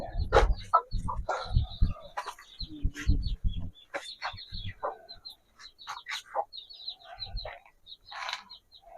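Chickens cluck and chirp around a village backyard coop beside dense forest, with a mix of short calls and higher tweets at close range, loud at first, then lighter and more scattered.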